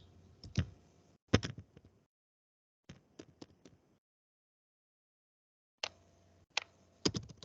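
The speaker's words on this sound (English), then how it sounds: "I'm typing something," Bursts of typing on a computer keyboard, irregular clusters of sharp key clicks separated by silent pauses, close and fairly quiet.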